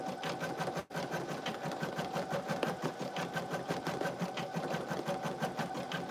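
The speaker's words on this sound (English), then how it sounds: "I think it's their newest single needle machine" A new Brother single-needle embroidery machine runs close by in a fast, even stitching rattle with a steady rhythmic pulse after a brief pause near the start.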